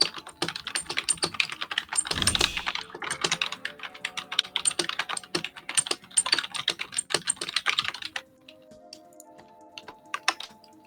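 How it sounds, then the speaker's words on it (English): Rapid, furious typing on a computer keyboard, close and crisp, with dense bursts of key clicks that thin into sparser, slower taps near the end. "the furious chill typing."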